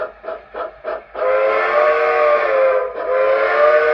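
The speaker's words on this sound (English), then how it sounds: "go ahead and blow the whistle" An HO-scale model Reading 2-8-0 Consolidation steam locomotive whistle sounds in four short toots, then one long sustained blast that briefly dips and resumes, loud and close.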